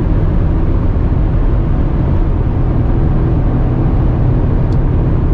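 A BMW XM travels at very high speed on the Autobahn, around 220 km/h through a gentle curve. Dense, continuous wind and road roar fills the cabin, with steady engine drone underneath.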